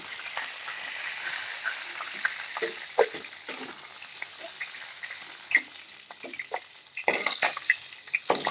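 Tangra fish fry in hot oil as they are lifted out, giving a soft steady sizzle broken by sharp crackles and pops that grow busier toward the end.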